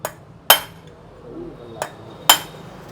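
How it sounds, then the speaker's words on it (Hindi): An LML NV Spl scooter engine's crank is being driven out with a hammer: four sharp, ringing metal blows at uneven intervals, close and loud over a quiet workshop background. "क्रैंक निकालने के लिए इधर से ठोक रहे हैं।"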